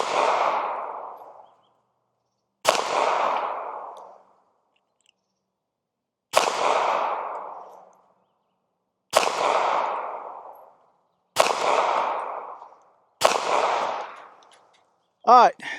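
Six sharp Ruger LCP Max pistol shots fired at a target five yards away, each a loud crack with a short decaying tail, spaced a couple of seconds apart, with no talk between them.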